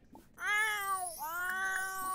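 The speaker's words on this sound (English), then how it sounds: "you want to sit here and meow at me like your life is ending" Cinnamon the cat lets out a long drawn-out meow, a short break, then a second sustained plaintive meow, close and fairly loud in a quiet room.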